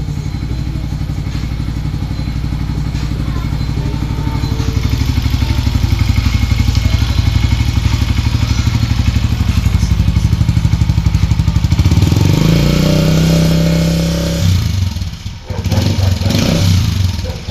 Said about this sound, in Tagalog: Ayan po ang ating sounds ng ating pipe